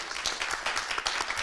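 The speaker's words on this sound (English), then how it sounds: "Round of applause, please" Steady crowd applause at a civic forum on voting, dense clapping from an audience filling the moment without a break, fairly close and continuous.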